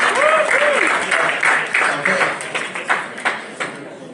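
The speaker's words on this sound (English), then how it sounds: "Round of applause." A crowd applauds steadily, the clapping gradually thinning into scattered claps, with voices audible underneath.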